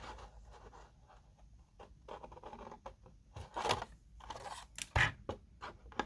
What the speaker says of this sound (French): je prends mes ciseaux et je coupe